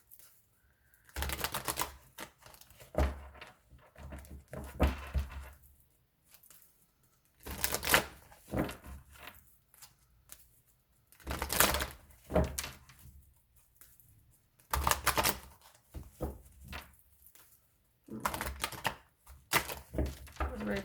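Tarot cards riffled and shuffled by hand in repeated bursts of rapid papery flicking and slapping, each lasting a second or two and separated by short quiet gaps, close to the listener.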